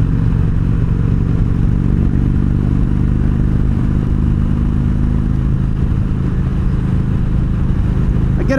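An Indian Roadmaster motorcycle cruising down a highway, its engine a steady low drone mixed with constant wind rush, loud and unbroken throughout with no talking.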